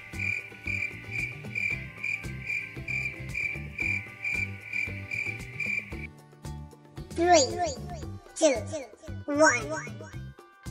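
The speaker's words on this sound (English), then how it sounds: "Cricket." Steady rhythmic chirping of a cricket pulses evenly for about six seconds, followed by a voice speaking.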